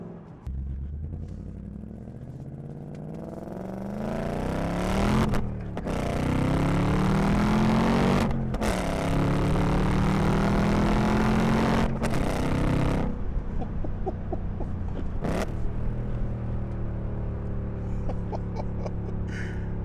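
Ford Mustang with a manual transmission driving on back roads, a loud, steady engine drone that rises in pitch through each gear, with sharp breaks at the shifts.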